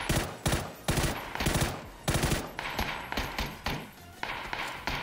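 Rapid bursts of video game gunfire crack out in irregular clusters, loud and close, with short gaps between volleys and some quieter shots toward the end.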